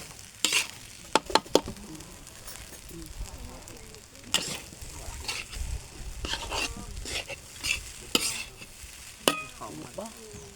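Fried rice with shrimp fat being stir-fried over a charcoal stove makes a soft sizzle broken by sharp scrapes and clanks of the spatula against the pan, close and fairly quiet.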